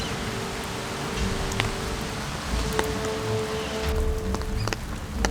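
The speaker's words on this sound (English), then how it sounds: "every time we look at this place, it's raining lately" Steady rain falls in Newcastle, a continuous broadband hiss with scattered drop ticks, fairly close and even in level throughout, with no one speaking.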